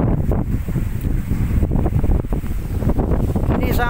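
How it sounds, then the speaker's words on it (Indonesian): Strong wind roaring loudly and continuously into the microphone during a heavy rainstorm, with buffeting gusts and a dense broadband rush near the mic and no talk. "ini itu kelihatan sangat kencang sekali angin"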